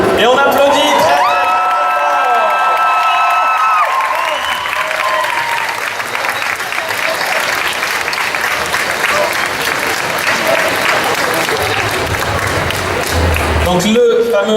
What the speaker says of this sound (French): Et on applaudit très fort.